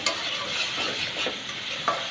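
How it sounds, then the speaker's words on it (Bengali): Ground spice paste of onion, cumin, ginger, garlic, dried chili and turmeric fries in a pan for a boal fish curry, a close, steady sizzle with soft stirring scrapes over two seconds, with no talk. "দিয়ে এই মশলাটাই কষাবো, ভুনা করবো।"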